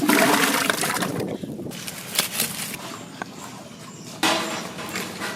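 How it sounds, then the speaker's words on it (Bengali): Elephant foot yam pieces go into a pot of water set to boil in a village kitchen, giving splashy, sloshing water sounds with a few soft knocks, fairly close and steady, with no talk. "সেদ্ধ করব, জল চাপিয়ে দিলাম। ওলগুলো দিয়ে দিচ্ছি।"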